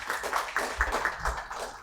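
A short burst of audience applause at a Korean credit union performance-report conference, dense and fairly close, with no talking.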